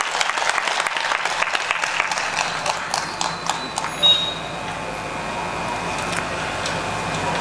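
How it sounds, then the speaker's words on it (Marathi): Loud, dense crowd applause at a political party joining ceremony in Akole, a continuous clatter of many hands clapping that swells early and then settles into a steady ovation. "त्यांच्यासाठी जोरात टाळ्या वाजवा"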